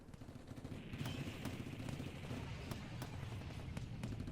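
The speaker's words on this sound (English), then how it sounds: "Oh, was that gunshots?" Scattered gunshots from the Steins;Gate 0 video game ring out as sharp, fairly distant cracks at irregular intervals over a dense, continuous background rumble.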